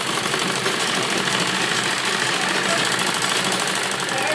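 A sewing machine runs steadily and close by, double-stitching the seams on a side-dori Naira frock, its dense mechanical whir continuing evenly throughout with no pauses.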